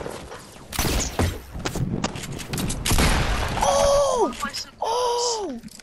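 Video game gunfire with sharp shot bursts and mechanical clatter, mixed with excited shouting from players in the game.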